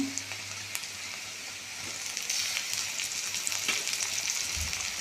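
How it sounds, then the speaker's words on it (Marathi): Onion and tomato fry in a pan for a spiny gourd curry, giving a steady close-up sizzle that continues without pause and grows a little louder partway through, with no talking. "हे बघा आता आपला कांदा छान भाजलेला आहे त्यामध्ये आपण आता टोमॅटो घालूया"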